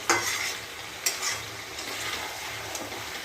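Spicy red chicken sizzles in a pan while being stirred, a close steady hiss with several crisp clinks and scrapes of the utensil against the pan.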